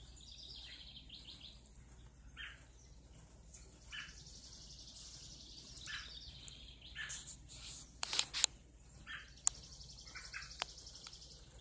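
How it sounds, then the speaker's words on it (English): Birds chirp and sing faintly outdoors on an early Sunday morning. The calls are scattered, with a few brief knocks in the quiet background. "Can you hear the birds?"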